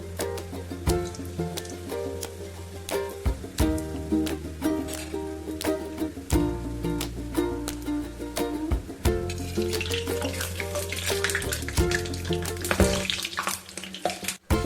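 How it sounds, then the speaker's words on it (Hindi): Water droplets from a washed, still-wet strainer spatter and crackle in hot frying oil while sweets made with baking soda and desi sugar cook, giving steady close sizzling with sharp irregular pops throughout. "उसके पानी के छींटे हल्के से चले गए हैं, पटक हो रही है"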